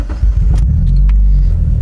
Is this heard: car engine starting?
yes